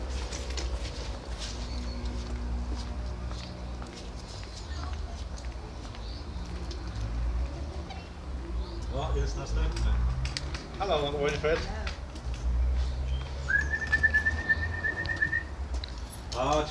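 Racing pigeons coo softly at the loft in England as birds return, with scattered wing flutters and bird calls over a constant low hum, while a person talks and calls to the birds.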